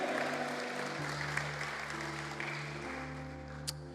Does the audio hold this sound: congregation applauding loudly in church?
yes